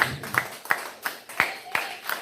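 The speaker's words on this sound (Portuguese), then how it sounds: "bate uma salva de palmas para o Senhor Jesus" Scattered hand claps ring out in a church service in honour of Jesus, a few sharp claps spaced roughly every third of a second, fairly close and moderately loud, with a faint voice underneath.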